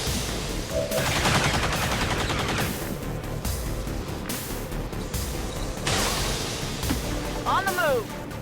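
Gunfire in the video game XCOM 2: dense bursts of automatic fire and repeated shots across the whole stretch, loud and continuous, with a voice talking over the battle noise.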